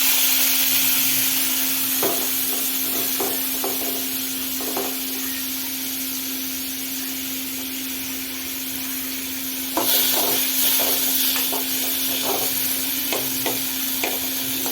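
Tomatoes sautéing in a little oil for a spicy onion-tomato kara chutney: a constant hiss of frying with a steady hum beneath, broken by scattered scraping taps of a spoon against the pan, with no talking.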